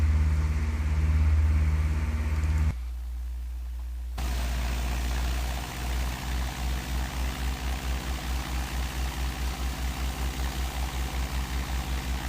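Aircraft engine idling and taxiing around a simulated airport in a freeware flight game, a steady low drone that pauses briefly, then returns with a rhythmic pulsing throb.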